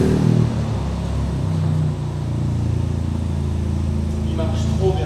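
A car backing up after a clutch replacement, its engine humming steadily at low revs with a slight rev change midway, close and fairly loud.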